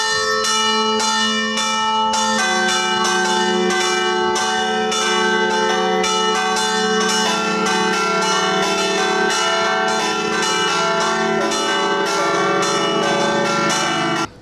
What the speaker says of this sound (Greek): όπου υπάρχει ακόμη χειροκίνητη καμπάνα με μεράκι και ιδιαίτερη ικανότητα την κρούει μελωδικά